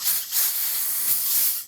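Compressed air blasted through the small holes of a carburetor after carb cleaner, a loud close hissing rush in a few bursts with brief dips between, no talking.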